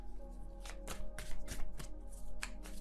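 Tarot cards being shuffled by hand during a reading, a rapid run of close riffling and slapping card sounds over a steady low hum, with no talk.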